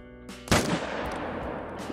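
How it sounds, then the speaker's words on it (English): A single loud rifle shot at an ibex in the hunting game Call of the Wild, one sharp report followed by a rolling echo that fades over the next second or so. "I'm actually going to shoot him."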